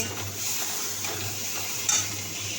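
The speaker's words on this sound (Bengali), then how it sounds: "এই যে ছোলার ডালের মশলা কষা হচ্ছে।" Chana dal spice paste fries in mustard oil with cumin, dried chillies, bay leaves, ginger paste and raisins, a steady low sizzle with soft stirring and a single utensil clink.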